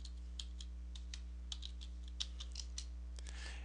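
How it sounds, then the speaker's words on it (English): Someone types a password on a computer keyboard, a quick, irregular run of close key clicks over a steady low electrical hum, with no talk. "So I'm going to retype the password that I put in initially."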